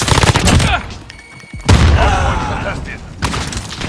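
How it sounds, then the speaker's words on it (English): Gunfire and explosions in a video game, with loud broadband bursts of shooting and a heavy blast in the first half, a brief lull, then renewed firing toward the end. "Damn explosion messed with my field of view."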